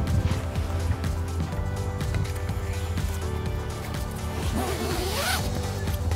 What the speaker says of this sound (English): Tighten up your strap.